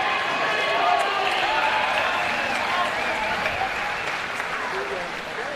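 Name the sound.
crowd cheering at cycling race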